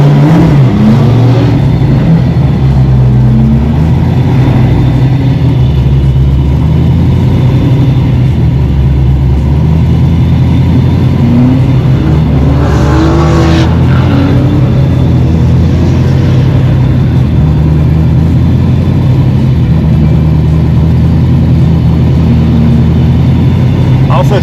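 A Ford Mustang drift car at 5 Flags Speedway roars close and loud, its heavy engine note rising and falling as it revs and accelerates throughout, with a brief rising surge and a voice faintly under the engine.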